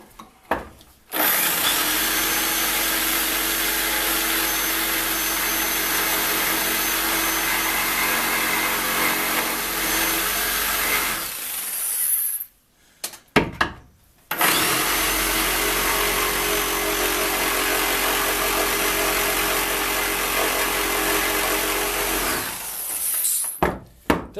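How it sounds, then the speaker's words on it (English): Jigsaw cutting wood in two long continuous passes of about eleven and ten seconds, a loud buzzing rasp close up with a short break between cuts. "The other problem with the jigsaw is trying to cut a straight line."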